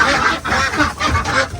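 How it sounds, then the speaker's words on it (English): Muscovy ducks call in a roosting coop in the snow, a dense, continuous, close-up chorus of rough, breathy noise with no speech. "The Muscovies are so funny how they sit up here."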